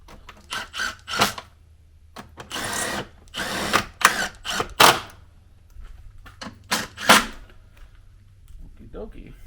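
Power drill driving bolts into a Jeep Gladiator front bumper, a series of short sharp whirring bursts of varying length, close and fairly loud, separated by brief pauses with someone speaking between them.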